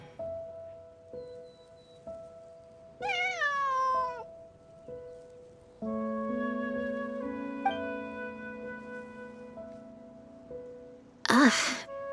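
Cat meowing in the Genshin Impact video game, a clear, close meow rising and falling over soft rain and a sustained musical backdrop, followed later by a short, sharp bright burst near the end.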